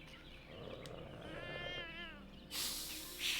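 A cartoon cat in the video game Jenny LeClue: Detectivu lets out a single drawn-out meow over quiet game ambience, followed by a burst of bright noise.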